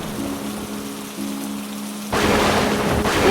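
Monsoon rain pours in an animated Hindi story, a steady hiss of falling rain with a low rumble, then a loud crack of thunder bursts in partway through and the downpour grows heavier.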